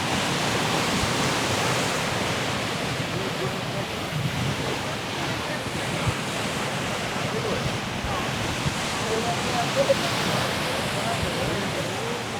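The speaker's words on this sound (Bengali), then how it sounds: "আপনারা হয়তো বা সাউন্ড শুনতে পারতেছেন ঢেউয়ের, সমুদ্রের গর্জন" Sea waves rolling onto the shore of Saint Martin Island at night during high tide, a steady broadband roar of surf with continuous rushing and no distinct breaks, fairly loud and close, with no talk over it.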